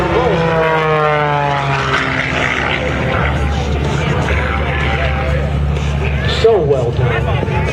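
Propeller airplane performing an aerobatic roll at an airshow, a loud sustained engine drone with shifting pitch as it passes, under an announcer talking over a public address system.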